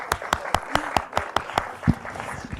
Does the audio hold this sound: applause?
yes